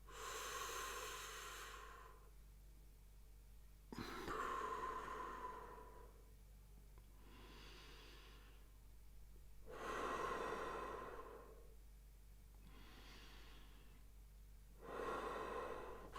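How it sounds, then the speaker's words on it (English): Slow, steady breathing drawn in through the nostrils and let out through the mouth, each long airy inhale and exhale repeating in an even rhythm at close range with no talking. "I was breathing in my nostrils and out through my mouth"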